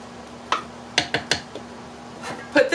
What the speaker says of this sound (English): we're gonna give it all a stir